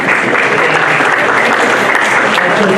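Loud, dense applause fills a hall at an athletics hall of fame ceremony, a continuous roar of many hands clapping close by.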